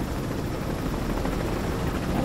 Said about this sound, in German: Oh, was für ein krasser Heli, Alter.